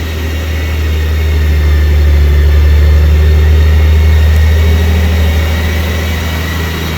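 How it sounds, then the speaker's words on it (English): A 2004 Honda Goldwing GL1800 touring motorcycle engine settles into a steady, smooth idle, a loud, close, continuous low hum with no voices. "Now you can hear this baby start up."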